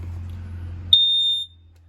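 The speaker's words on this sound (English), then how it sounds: "And the smoke detector is right here." A single loud, piercing electronic beep from a smoke alarm in a 2005 Jayco Jay Flight 31BHS travel trailer cuts in abruptly after a low hum, then stops.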